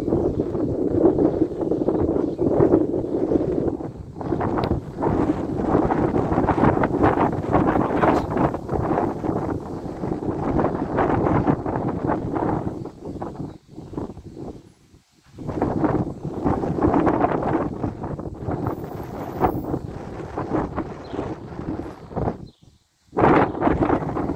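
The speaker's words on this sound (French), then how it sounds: "j'entends le vent derrière dans la forêt, ça craint" Steady wind rushes and roars through forest trees during a morning thunderstorm near Grenoble in the Alps, a broad continuous hiss with brief lulls, loud and close to the microphone.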